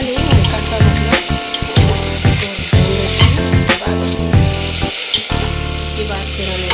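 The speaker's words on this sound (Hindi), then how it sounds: "ये हमारा कटहल हम पहले भून लेते हैं इसको अच्छे से" Jackfruit pieces frying in a pan for a curry, a steady loud sizzle with stirring clatter and scraping running throughout.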